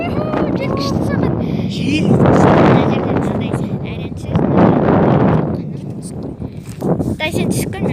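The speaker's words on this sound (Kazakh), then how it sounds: "Жел күшті соғады." Strong wind gusting beside the Khovd river buffets the microphone in heavy rumbling surges that rise and fall, while people talk over it.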